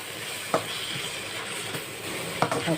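Minced pork belly is stir-fried in a pan with curry paste, giving a steady close sizzle and hiss broken by a few sharp scrapes of the utensil, with no voices.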